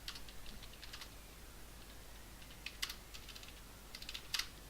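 Light keystrokes on a computer keyboard while notes are typed into dispatch CAD software, scattered soft clicks in short bursts with a couple of sharper taps, quiet and close over a steady low hum.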